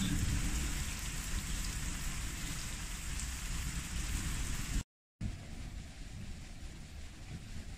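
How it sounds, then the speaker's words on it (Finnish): Heavy rain pouring down steadily outdoors, a loud dense hiss with water running down steps, continuous and close, briefly cut to silence before resuming slightly softer. "Tulee vettä aika tosissaan."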